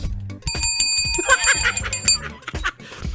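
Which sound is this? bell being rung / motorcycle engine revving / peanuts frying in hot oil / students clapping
bell being rung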